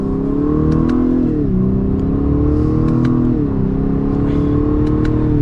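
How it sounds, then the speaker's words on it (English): A 2022 Lexus LS 500 F Sport pulls hard under acceleration, its engine and exhaust droning loud and close from inside the cabin, with the pitch climbing and dipping at two gear changes. "So we will give it one last acceleration for today's video."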